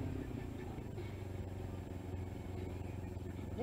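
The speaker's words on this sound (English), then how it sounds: "my bike's like idling really high right now, and I have no clue why." A motorcycle idling unusually high with no known cause, a steady continuous engine rumble with some clatter, heard up close outdoors.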